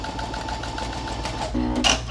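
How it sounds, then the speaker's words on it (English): A sewing machine runs a long straight basting stitch across the bottom of a fabric pouch made from fat quarters, a steady quiet whir with fast even needle ticks, close by, with a brief louder bump near the end. "I'm going to start off by basting the bottom of this. I'm just doing a long straight stitch."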